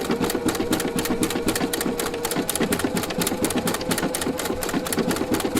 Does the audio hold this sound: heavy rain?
no